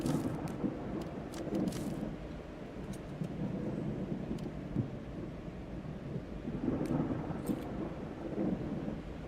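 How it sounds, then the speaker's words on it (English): A looping stock thunder effect in a video game rumbles in low, rolling waves with brief crackling peaks, a steady storm bed running for several seconds with no talk. "If I hear this stock sound effect, this stock sound effect thunder loop one more time, I'm gonna go crazy."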